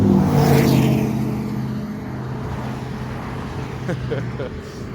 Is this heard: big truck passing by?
yes